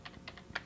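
Keys tapped on a computer keyboard while entering a web address, a few separate soft clicks in quick irregular succession, close and quiet with no talking.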